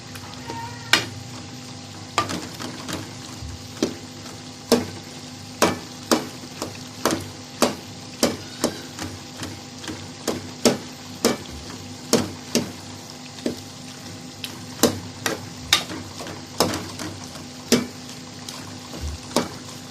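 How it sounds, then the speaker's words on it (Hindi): Chicken keema frying in a pan while a spoon breaks it apart, steady close sizzling with sharp regular clacks of the spoon against the pan roughly every second over twenty seconds. "तकरीबन 5 से 7 मिनट तक हम चिकन को और कीमे को फ्राई करेंगे।"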